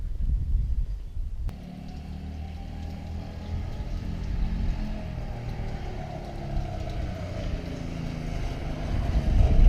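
Coleman CT200U mini bike with its governor removed, riding past with a steady buzzing small-engine drone that swells louder toward the end, no voices.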